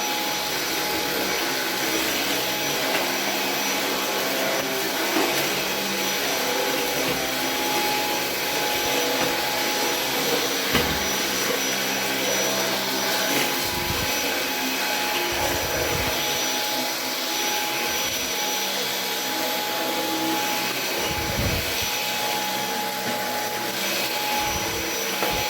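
Roborock H6 cordless vacuum cleaner running indoors in an entryway, a steady loud whine with brief thumps and scrapes as it moves over the floor.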